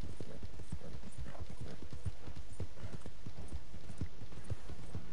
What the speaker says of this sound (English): Oh, this horse is slow, man.